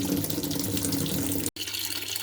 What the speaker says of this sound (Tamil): இப்போ நம்ம நார்மலாக வாஷிங் மிஷின் ட்ரம்மில் வந்து வாட்டர் ஃபில் பண்ணிக்கலாம்